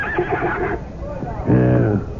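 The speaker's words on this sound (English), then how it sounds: "Go find me another horse, Philonicus" A horse in a radio drama lets out a loud, close whinny with a shaking, trembling tone, directly after a voice.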